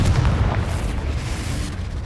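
A Confringo blasting spell exploding in the Hogwarts Legacy video game, one loud deep boom that rumbles and fades over two seconds, with no voices.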